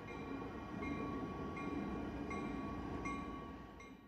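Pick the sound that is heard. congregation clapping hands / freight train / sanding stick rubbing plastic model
freight train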